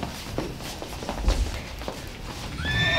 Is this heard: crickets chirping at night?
no